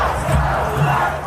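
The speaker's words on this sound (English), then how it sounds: "a massive crowd of anti-ICE protesters flooding downtown Minneapolis" A massive crowd of anti-ICE protesters in downtown Minneapolis shouts and chants together, a dense, loud, continuous roar of many voices in a short burst.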